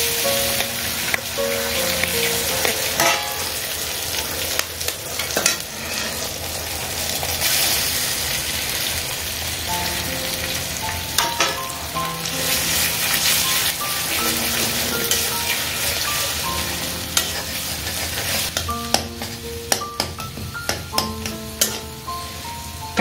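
Two eggs are added to a pan of sizzling spices while cooking chicken kebab pasta. A dense, loud, continuous frying hiss runs throughout, broken by frequent sharp spatters and utensil clicks.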